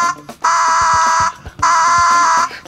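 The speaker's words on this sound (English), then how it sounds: "Do you like my alarm?" A homemade LEGO door alarm goes off in two loud, sustained electronic buzzes separated by a short gap, with light knocking clicks under and between the tones.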